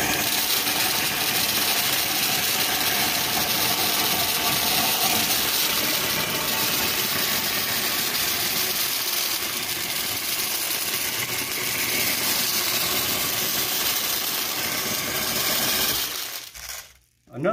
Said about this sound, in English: Here we're going to transfer popcorn from one container to another.